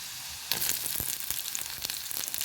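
Crushed shallots hit hot oil and sizzle loudly, the hiss jumping up suddenly and then crackling on with scattered pops and stirring clicks; no one talks.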